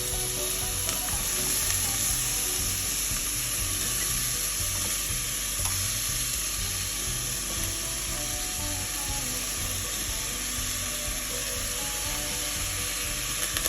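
Red onions and green spring onions fry in a pan with a steady, loud sizzle that holds evenly throughout, broken only by occasional faint scrapes of stirring.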